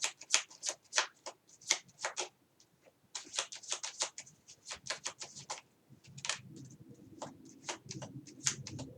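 Tarot cards are shuffled by hand in rapid bursts of crisp riffling flicks and slaps, close and fairly quiet, with short pauses between runs.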